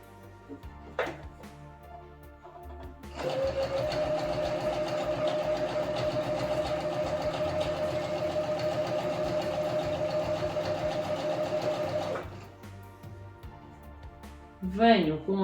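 Sewing machine stitching a seam on a V-neck t-shirt runs steadily for about nine seconds, close and loud, with quieter moments of handling before and after.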